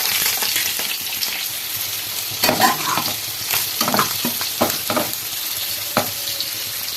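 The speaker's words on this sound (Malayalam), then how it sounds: "നമ്മൾ ആഗോലി പൊരിക്കാൻ പോവാം" Agoli fish frying in a pan on a home stove makes a loud, continuous sizzle, broken by several sharp scraping clatters of stirring.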